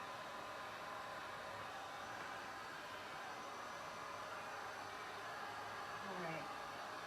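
A heat gun blows steadily on painted mirror surfaces, a constant broadband rushing hiss of air that holds at an even loudness throughout, with a faint voice murmuring underneath.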